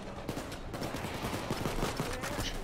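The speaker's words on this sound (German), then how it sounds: "Hier sind immer noch Polizisten, die auf uns schießen und so." Police in Payday 2 fire on the players in a rapid, dense volley of gunshots, a sustained crackling fusillade of many overlapping shots at moderate distance, with no talking heard.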